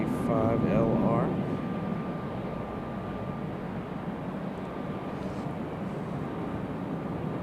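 An Embraer E175LR airliner at Raleigh Durham airport gives a steady, distant jet engine rumble that holds evenly throughout, with a voice talking briefly at the start.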